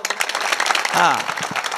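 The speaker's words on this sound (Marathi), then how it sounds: "दुसरी एकदा जोरात टाळी वाजवा अजून" An audience at a kirtan claps briskly in a burst of applause while a voice speaks loudly over the clapping.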